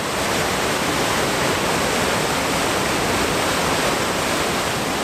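A waterfall roars steadily and loudly, a dense unbroken rush of falling water filling the whole stretch with no voices.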